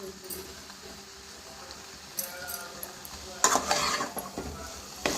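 Chicken chilli with spring onions being stir-fried in a pan, a soft steady sizzle with occasional scraping and clinks of a utensil against the pan, growing louder and busier toward the end.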